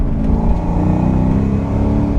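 A 1996 Ford Mustang GT with a naturally aspirated 4.6-liter V8 runs close by, giving a loud, deep, steady engine rumble that holds at a constant level with no voices.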